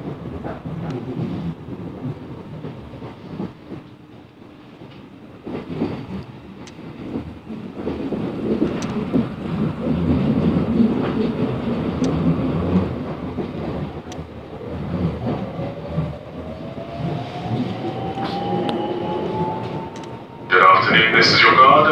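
A South Western Railway Class 707 train runs between London Waterloo and Chessington South, with a steady interior rumble and rolling noise throughout, a rising motor whine toward the end, and a louder burst in the final seconds.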